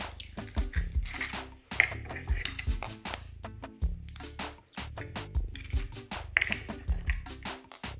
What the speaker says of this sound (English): I'll add my eggs, my 3 eggs